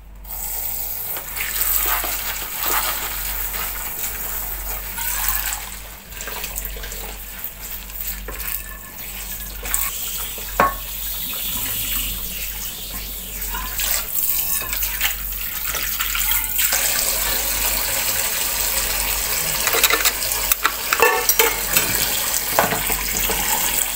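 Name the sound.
washing dishes under running tap water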